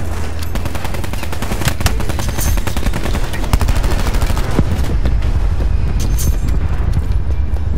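Rapid heavy gunfire from a gunship killstreak in Black Ops 4 pounds continuously and loud, dense bursts of automatic fire and booming impacts layered over a sustained rumble with no speech.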